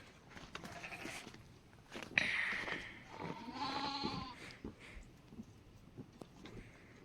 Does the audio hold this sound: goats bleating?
yes